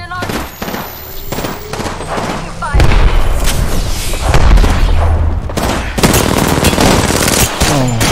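Rapid automatic gunfire and heavy booms from the battle royale game Apex Legends on the Olympus map, loud close bursts mixed with distant shots, while a player talks over the fighting.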